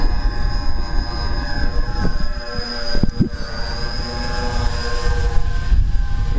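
A 3 m wingspan RC Lancaster model bomber's multiple engines throttle up into a steady, loud droning whine with a high tonal buzz, close by and continuous, with no talking.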